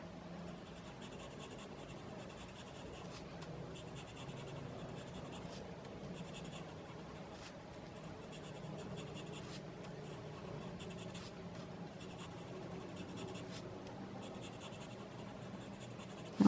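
A pencil drawing on a paper tile gives continuous dry scratching and shading strokes, close and quiet, broken by short pauses as the tile is turned, with no talking.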